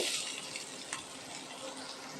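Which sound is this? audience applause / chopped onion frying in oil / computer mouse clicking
chopped onion frying in oil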